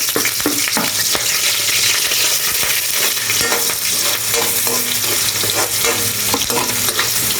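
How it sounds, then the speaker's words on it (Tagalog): Onion fries in hot oil for adobo, a loud, close, continuous sizzle with brisk stirring and metallic scraping of a utensil against the pan throughout, no voices present. "Lalagay ko na yung ating onion"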